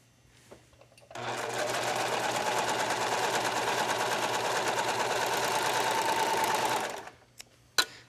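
Sewing machine running steadily for about six seconds, stitching a shoulder seam on a knit racer-back top, a close, continuous rapid whir that starts and stops abruptly with a brief click after.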